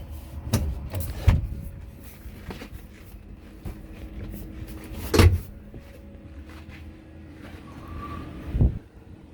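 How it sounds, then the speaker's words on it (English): A powered seat swivels inside a Sprinter 4x4 camper van: intermittent whirring motor runs and a few solid clunks and knocks, close by, with no speech. "Alright, seat swiveled."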